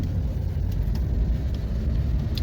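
A 2020 Hyundai Elantra cruising along a city street, heard from inside as a steady low engine and road rumble, fairly loud and continuous with no talk.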